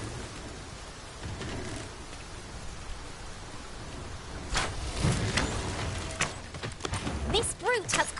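Steady rain hisses across open ground in Dragon's Dogma 2, a constant mid-level wash of falling water under voices talking, while a few sharper thumps and a rising tonal effect punctuate the end.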